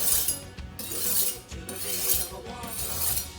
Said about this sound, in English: It also makes that great sharpening sound, like so.